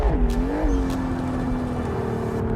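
A car engine in the BeamNG.drive driving game revs up and climbs in pitch, then holds a steady, droning whine, loud and close with no talking.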